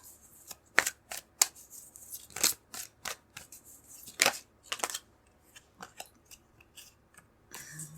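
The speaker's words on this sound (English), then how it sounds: "I'm going to pull some cards to go along with that" Tarot cards are shuffled and pulled by hand in a quiet room, a series of sharp, close riffles and flicks in uneven bursts with short pauses between them.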